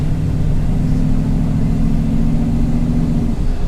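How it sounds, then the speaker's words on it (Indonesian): A V8-swapped Daihatsu Xenia's engine drones loudly with a deep, steady rumble and a held tone that drops away near the end, with no voices. "kalau kita bejek juga suaranya tuh bener-bener kerasa gitu V8-nya"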